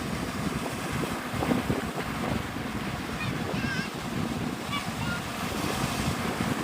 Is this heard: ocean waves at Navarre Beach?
yes